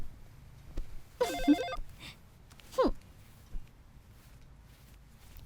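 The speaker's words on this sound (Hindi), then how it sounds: "स्मिता, फोन उठाओ ना" A telephone rings in two short bursts about a second and a half apart, the ringing clear against a quiet, low-level room background.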